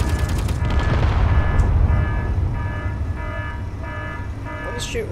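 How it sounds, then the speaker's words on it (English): A ship turret in the Space Engineers video game fires repeated bursts of gunfire, loud and rumbling at first, then settling into a steady rhythm of pulsing shots over a low engine drone. "What is shooting at me?"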